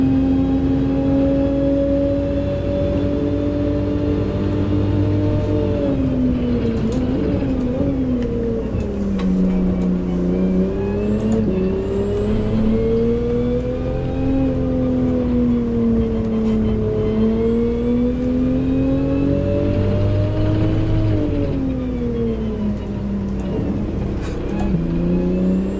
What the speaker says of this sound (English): Oh, rev more. Right to red line.